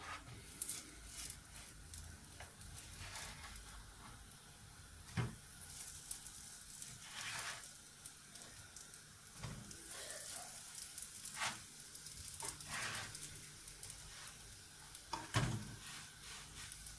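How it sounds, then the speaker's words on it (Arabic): Harcha semolina flatbreads sizzle steadily in a hot pan, with faint crackling frying and occasional soft clicks and scrapes as they are turned, no voices present. "هانتوما شتو فوقاش نبدا نقلب هاد الحريشات ديالي"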